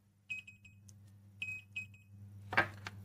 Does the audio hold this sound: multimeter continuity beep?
yes